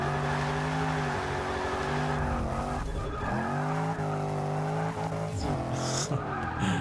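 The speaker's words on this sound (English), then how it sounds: "Just smash the handbrake and turn in and floor it and you're good." Tires skid and squeal as a Range Rover Sport SVR is handbraked through a turn in the Forza 6 racing game. The engine drone runs continuously throughout, with the pitch dipping and rising as the car slides and powers back on.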